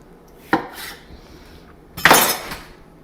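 A kitchen knife cuts the end off a cucumber during tzatziki prep: a light close tap, then about a second and a half later a louder, crisp chop against the board, with quiet room tone between.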